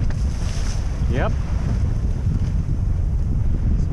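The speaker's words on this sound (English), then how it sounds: "Smashing into the waves." A sailboat pushes through choppy waves on a windy day, giving continuous wind buffeting and rushing water with splashes, loud and close, with a faint brief voice or squeak in the middle.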